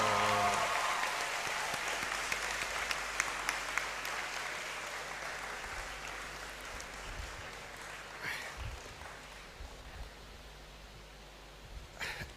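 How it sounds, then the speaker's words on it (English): Applause fills a graduation congregation ceremony in a university great hall, a large crowd clapping steadily with scattered shouts, gradually thinning toward the end. "I understand the shouts and the claps."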